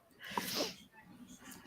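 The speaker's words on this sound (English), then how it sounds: "I'm also trying not to sneeze, but the sneeze will come" A single sneeze, close and fairly quiet, followed by breathing and low murmuring.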